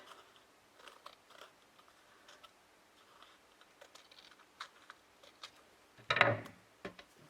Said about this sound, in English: So just going to cut that off using the bottom piece that I stuck it to just as a guide.